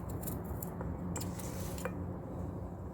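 A knife cuts through firm green plum flesh down to the pit, making a few crisp, close cutting and scraping clicks in the kitchen over low background noise.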